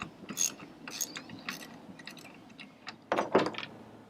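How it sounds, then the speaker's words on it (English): A wrench loosens the pinch bolt on the rudder head of an Ideal 18 sailboat, giving a series of close ratcheting clicks and metallic scrapes in short bursts, ending in a louder clatter. "We start by loosening up the pinch bolt."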